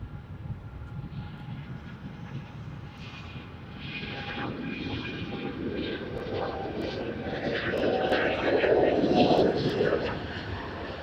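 Airliner landing at Sydney Airport, a steady broadband engine rumble that swells to its loudest near the end as the aircraft passes close, with voices talking and faint radio chatter underneath.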